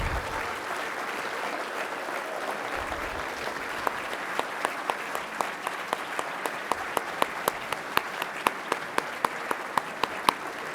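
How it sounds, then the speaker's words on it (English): Diners at an awards dinner applaud veterans with a long, even wash of clapping that gradually thins into more distinct, rhythmic individual claps toward the end. "Let's give a round of applause to all our veterans"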